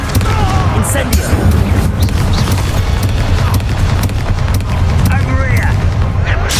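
Spells cast during a Hogwarts Legacy fight, including the Incendio fire spell, as a loud dense mix of booming blasts and impacts over game music and voices, with people talking throughout.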